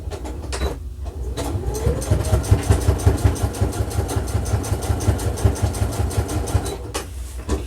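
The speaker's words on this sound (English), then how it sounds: "The needle is going through this fabric really well, and it's not snagging or fraying." A sewing machine top stitching fabric runs alone in a fast, even mechanical chatter. The motor whir and rapid needle pulses carry on steadily for several seconds after a short start.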